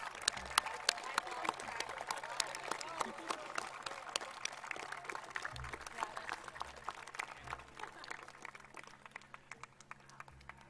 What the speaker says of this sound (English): all the students should be standing and applauding for the parents and guardians